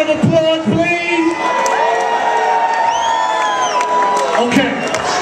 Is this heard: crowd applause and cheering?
yes